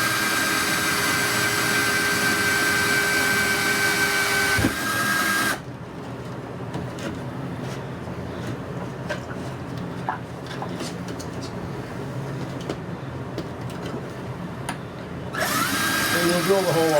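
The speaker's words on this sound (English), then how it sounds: "When you're drilling into the conduit, you're going to want to start slow" A power drill bores through conduit, a whining, grinding buzz that starts loud, drops to a quieter stretch with scattered clicks, then surges again at the end.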